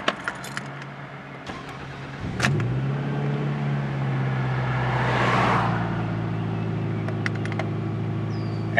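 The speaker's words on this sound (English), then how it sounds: "I'll just wait for the cars to go past quick." A car passes by on the road, swelling and fading over a few seconds while a nearby 2000 Camry idles steadily after a cold start, with faint clinks and no talking.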